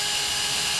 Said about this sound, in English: some type of little drill, you just come in and you drill